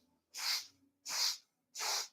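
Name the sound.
four sharp sniffs in through the nose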